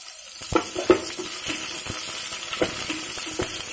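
Onions, green chillies, grated ginger and curry leaves fry in oil, a constant crackling sizzle punctuated by repeated sharp spatula scrapes and taps against the pan, close up and without voices.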